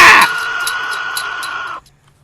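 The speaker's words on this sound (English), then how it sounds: "I do appreciate the dinosaurs sound like birds." A bird-like dinosaur call from a dinosaur horror video game: one loud, sustained, high, whistling cry held for under two seconds, then an abrupt drop to near silence.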